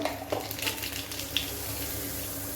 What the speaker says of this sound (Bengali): তেলটা বেশি গরম হয়ে গেছে, কালো জিরা দিয়ে দিলাম